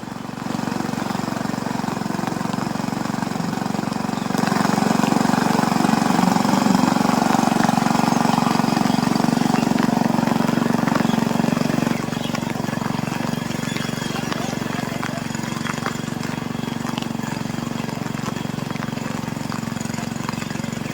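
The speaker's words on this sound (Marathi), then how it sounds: "हा बघा ट्रॅक्टर" A tractor engine runs steadily while churning a muddy, flooded paddy field in rural Konkan during heavy rain, a constant mid-distance drone with a voice talking over it.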